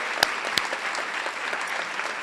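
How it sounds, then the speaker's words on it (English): An audience at a school rally claps in a steady, full round of applause, with a couple of sharper close claps near the start and no voices on top. "Please give yourselves a round of applause"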